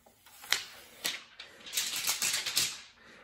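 Plastic wrapping torn off a makeup eyeshadow palette, close up: several sharp crinkling rips, then a longer rustling tear of the film, with no talking.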